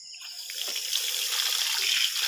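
Water is poured into a container to soak white squash seeds, a steady close trickle and splash running for about two seconds.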